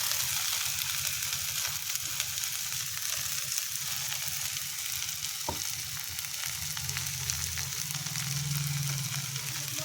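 Dried fish fries in a pan with oil, giving a loud, continuous close sizzle, with occasional stirring scrapes and a low hum underneath and no speech.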